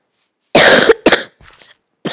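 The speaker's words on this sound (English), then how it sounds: "Sorry, guys. If I cough," A single sharp, loud cough close to the listener, followed by a softer throat-clearing sound, then another cough starting at the end.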